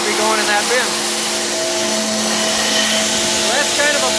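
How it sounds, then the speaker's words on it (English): Grain streaming through metal pipes at a grain dryer and bin site, heard as a steady loud rushing roar with a whirring machine drone and brief whining tones, continuous throughout. "Moving through the pipes. It's pretty noisy back here, but I can hear it moving through."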